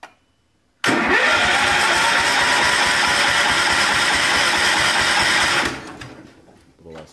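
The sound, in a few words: small engine being cranked with choke on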